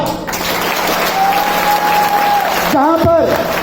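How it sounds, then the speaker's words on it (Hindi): An audience applauds at a business seminar in Jind, steady clapping from a crowd under a voice over a public address system, with a brief whistle or tone ringing through. "तालियां।"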